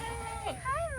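A pet cat meowing up close, two short rising and falling cries in quick succession.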